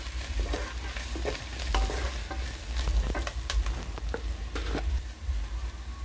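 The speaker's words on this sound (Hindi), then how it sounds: "इसको चलाएंगे।" A spoon stirs chilli, onion and coriander with turmeric in a hot pan, making a steady sizzle with rhythmic scraping and clinking strokes. The sound is close and continuous, with no talking.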